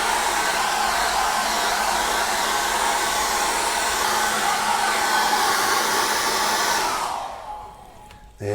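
A hair dryer blows steadily and loudly, drying acrylic paint on a canvas, a constant close whoosh that cuts off near the end.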